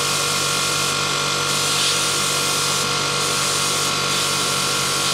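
Steady hissing spray from a can or nozzle blowing dust out of the inside of a desktop PC during cleaning, loud and continuous with brief interruptions, no talking.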